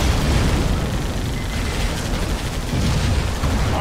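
Gunfire and explosions fill a Halo Wars real-time strategy battle, a dense, continuous roar of booms, bursts and rapid shots at steady loudness with no pauses.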